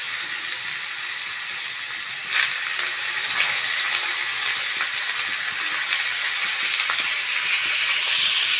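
Chopped bottle gourd and potato dropped into a hot wok of oil with cumin, dried chilli and bay leaf, giving a steady, loud, close hissing sizzle, with a brief clatter early on and no talk.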